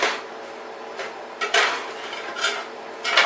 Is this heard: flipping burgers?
yes